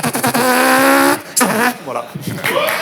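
A man on a French TV talk show vocally imitates a racing car, a sustained buzzing engine whine followed by shorter sputtering bursts, loud and close, with brief speech afterward.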